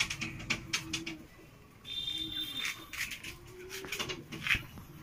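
Pure Madrasi pigeons cooing in a home loft in Howrah, soft low rhythmic coos repeating close by, mixed with sharp scattered clicks and flutters and a brief high electronic tone.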